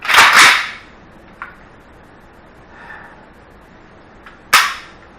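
An AK rifle fires close by: a loud sharp crack opens, then a second crack follows about four seconds later, with only faint noise in the gap between the shots.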